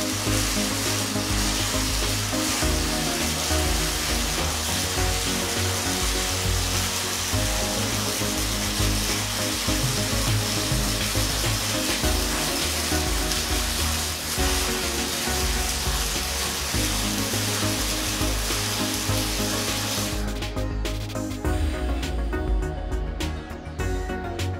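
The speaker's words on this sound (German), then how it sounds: "Das Schweißen mit den 2 Schweißbrennern können wir uns anschauen." Arc welding with two welding torches produces a loud, continuous crackling sizzle that runs steadily for about twenty seconds and then cuts off into a quieter background.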